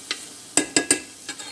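Sliced celery and courgette sweating in a pan, heard as a few sharp spoon scrapes and stirs with a faint sizzle beneath, four distinct knocks spaced through a quiet moment.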